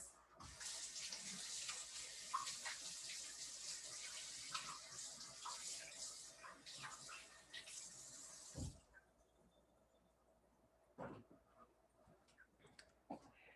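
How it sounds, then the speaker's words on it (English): Hands rinsed under a running kitchen tap, a steady close rush of water for about nine seconds that stops abruptly, followed by a few faint clicks and knocks in a quiet room. "Let me give my hands a rinse."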